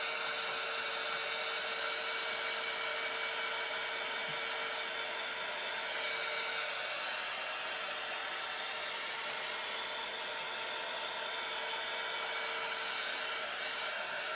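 A hair dryer blows steadily on a child's wet, water-dampened craft, a continuous loud whooshing whir that holds even for the whole stretch with no talk over it.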